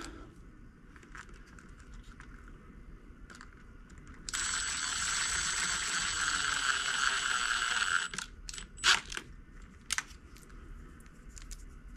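A screw driven down with a power drill or driver to hold a part of a dust collector in place, a steady whirring buzz lasting about four seconds, loud and close, followed by a few short clicks and taps.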